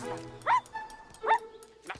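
A dog in a Barbie Dreamtopia cartoon barks twice, short high yipping barks spaced apart, over faint background sound and a voice.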